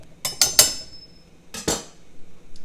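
A spoon stirs a pot of healthy gumbo, giving a few quick metallic clinks and scrapes against the pot in two short bursts, close and fairly soft, with no talking.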